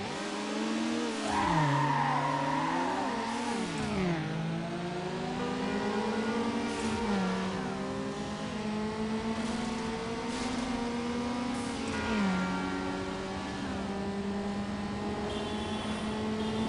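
A racing car engine in the video game Need for Speed Underground whines steadily and loud, rising and dropping in pitch with each gear change, with brief tire squeals along the way.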